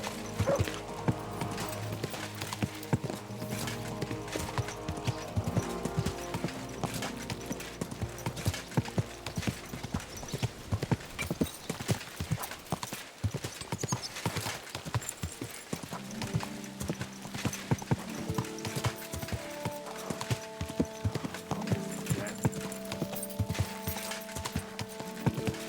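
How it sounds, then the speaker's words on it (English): Horse hoofbeats in the medieval video game Kingdom Come Deliverance 2, a steady rapid clip-clop of galloping hooves lasting the whole stretch, close and loud, with creaking tack and an occasional whinny. "Easy, good horse."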